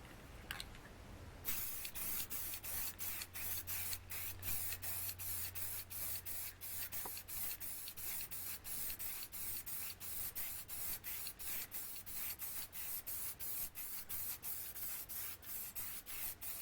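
A steady aerosol coat is sprayed onto a customized license plate covered with pre-printed paper, a continuous close hiss lasting throughout, with faint low hum underneath and no voices.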